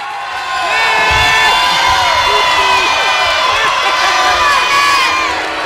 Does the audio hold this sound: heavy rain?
no